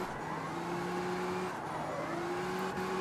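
S chassis car engine in the CarX Street racing game, a steady droning hum with rising and falling pitch as the revs shift, continuous and fairly loud with a brief tire squeal, no voices.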